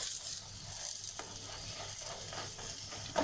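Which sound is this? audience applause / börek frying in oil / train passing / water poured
börek frying in oil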